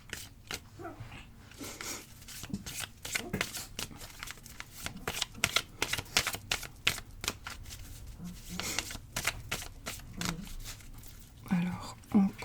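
Oracle cards shuffled and cut by hand for a daily card reading, giving soft, close papery riffles and taps in irregular bursts, with a faint murmuring voice underneath.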